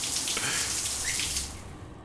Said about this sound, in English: Task 2, please take a shower.